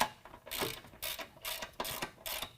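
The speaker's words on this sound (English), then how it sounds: "I'm just going to go ahead and lift it up and then tighten everything down. I'm going to use a 13 millimeter." A ratchet with a 13 mm socket tightens bolts while a running-board step system is installed on a 2019 Ram 1500, producing four quick bursts of rapid clicking in a steady rhythm, close but faint, with no talk.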